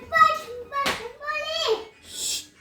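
A small child nearby chatters and squeals in short high-pitched vocal bursts indoors, with one sharp knock or bump in between, loud and close.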